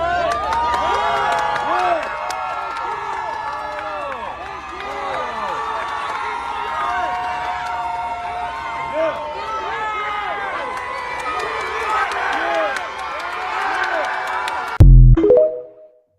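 A crowd cheers and whoops as police officers kneel, a loud, sustained roar of many voices with shouts rising over it throughout, ending in a brief thump near the close.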